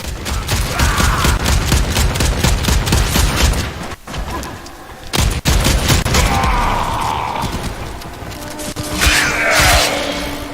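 Rapid gunfire in the Warframe video game, dense bursts of loud shots with mechanical clatter, briefly dropping out twice before resuming at full intensity.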